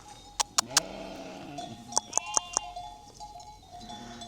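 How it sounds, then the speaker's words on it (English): Sheep bleat on a farm in central Portugal, several short bleats close by in two bursts, with more calls further off over steady outdoor ambience. Some of them may be young lambs. "Hello, sheep."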